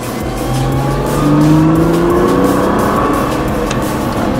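A race car on a track comes off the brake and accelerates hard, its engine note sweeping upward in pitch and swelling in volume, with a brief tire squeal, loud and close.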